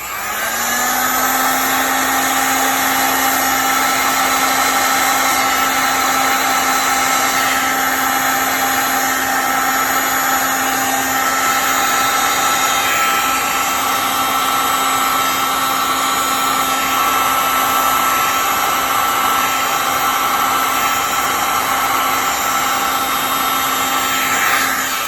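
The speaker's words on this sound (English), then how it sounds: "So I'm going to do a heat gun." Heat gun blowing steadily on a resin coaster as a continuous loud airy roar with a high whine, running unbroken the whole time.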